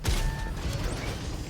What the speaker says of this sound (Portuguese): Ah, só porque eu falei errou o tiro.